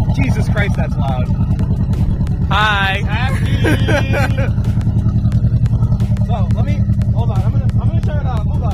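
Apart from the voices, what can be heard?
loud car engine running on stock factory tune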